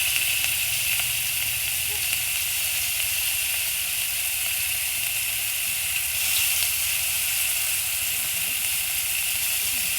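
Onion and garlic sizzle in hot oil in a home kitchen pan, making a continuous bright hiss that stays steady and fairly loud from start to finish.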